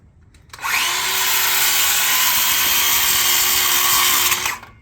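A power tool cuts metal braces for a kitchen faucet repair, a loud steady high-pitched whine with a constant tone, starting abruptly, running about four seconds and stopping, with no voices over it.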